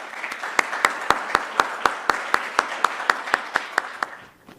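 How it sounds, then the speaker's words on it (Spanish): A short burst of rhythmic clapping from an audience at a talk, steady and evenly spaced like a small group applauding in unison, fading out at the end. "Les pido un aplauso para Laura"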